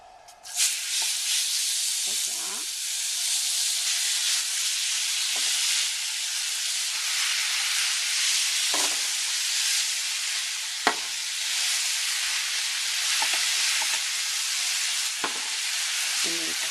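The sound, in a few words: spaghetti squash sautéing in melted butter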